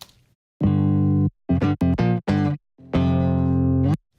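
Clean guitar power chords ring out in a short rhythmic pattern, bright and undistorted, separated by brief pauses.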